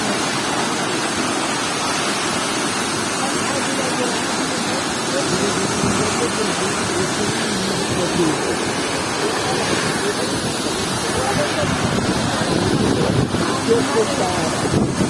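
Tortum Waterfall, where Tortum stream pours out of Tortum Lake, gives a loud, continuous broadband roar with wind buffeting the microphone throughout.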